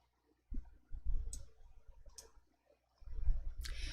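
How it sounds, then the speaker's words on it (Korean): A computer mouse clicks the OK button in Excel, with a few faint, quick clicks close by over quiet handling noise. "확인을 클릭해 주세요"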